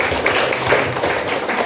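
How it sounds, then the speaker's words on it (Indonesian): A seated audience claps for the participants, a dense, steady wash of applause filling the whole short moment. "Tepuk tangan untuk peserta."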